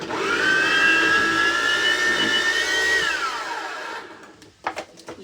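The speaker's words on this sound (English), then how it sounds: "I'm gonna blend this real quick" A food processor whirs loudly up close as it blends chickpeas, onions and mushrooms, holding a steady high whine for about three seconds before spinning down, followed by a few clunks.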